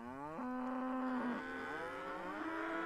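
A white cow in a video game lets out one long, loud, close moo with a drawn-out, wavering tone, followed by a softer lowing tail, with no talk over it.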